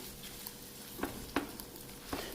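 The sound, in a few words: stirring citrus and garlic shrimp pasta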